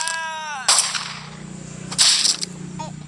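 Two sharp gunshot bursts from a video game, about a second apart, with synthetic electronic tones just before the first shot and a low steady hum underneath.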